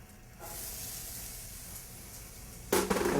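Onions sautéing in butter in a pan for turkey pot pie give a steady close sizzle and hiss, swelling louder near the end as the food is tossed.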